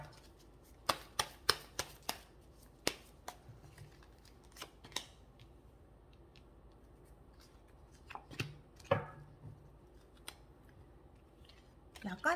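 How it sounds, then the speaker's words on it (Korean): Tarot cards being shuffled and drawn, heard as a series of sharp, close snaps and flicks clustered at the start and again near the end, fairly quiet with pauses between. "왜 이렇게 나왔을지에 대해서 추가 카드 뽑아 보겠습니다."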